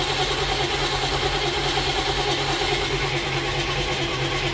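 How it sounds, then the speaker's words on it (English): A 1979 Chevy G20 van engine being cranked over: a steady, continuous mechanical churn with a low rumbling drone, loud and close, holding at an even level throughout without firing. "I want to crank this thing for a little bit, build some oil pressure, and then we'll fire it."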